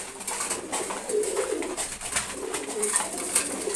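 A female pigeon coos in repeated low, rounded calls over about four seconds, close by with steady background noise and no talking, while other pigeons are kept nearby.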